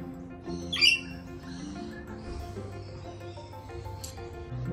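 A brief, sharp rainbow lorikeet squawk up close, followed by fainter chirps over a low background hum, outdoors in Sydney, Australia.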